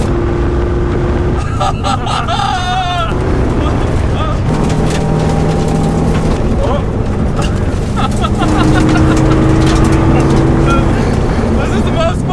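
A rally car engine revs hard through fourth gear on a practice run, a loud, close, sustained roar with rising and shifting engine tones, while people in the car shout and talk excitedly over it.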